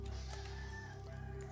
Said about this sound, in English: there go the roosters